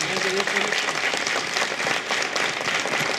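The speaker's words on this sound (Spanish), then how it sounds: "vamos a recibirlo con un aplauso" An audience at a congress on enigmas and mysteries in Capilla del Monte claps loudly to welcome a speaker, a dense sustained round of applause from a crowded hall.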